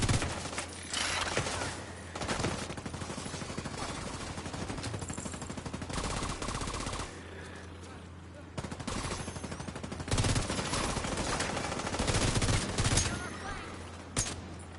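Sustained automatic gunfire in The Division 2 video game rattles in dense, overlapping bursts with brief lulls, loud and continuous, with faint voices under the shooting.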